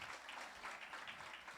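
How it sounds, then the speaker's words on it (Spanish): A crowd claps steadily for a moment, a dense patter of applause at moderate distance. "un aplauso Anita"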